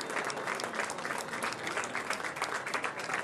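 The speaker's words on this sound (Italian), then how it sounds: "L'applauso quando esce il feretro." A crowd applauds as the coffin leaves a funeral in Palermo, giving sustained, dense clapping from many people outdoors at an even level for the whole stretch, with no voices standing out.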